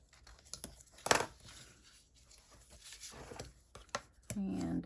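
Scored paper for a small craft box is folded and creased by hand, giving faint, intermittent crinkles and a few sharper papery snaps in a quiet room.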